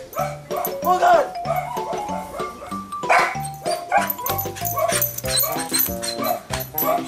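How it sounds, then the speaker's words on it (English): A dog barks, yips and whimpers in quick, loud bursts close by, mixed with excited people talking and shouting over the commotion. "Yeah, there's a dog next door."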